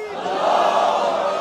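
A large crowd at a political rally shouts back in unison to the Takbir slogan, a loud, sustained roar of many voices.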